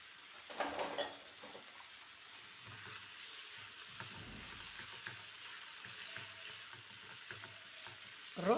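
Pre-cooked chicken fries quietly in a pan, a soft continuous sizzle with occasional light scrapes and knocks from stirring, heard alone and fairly faint.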